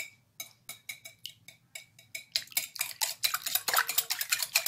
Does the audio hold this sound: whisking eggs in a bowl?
yes